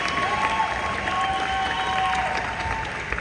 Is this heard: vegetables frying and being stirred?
no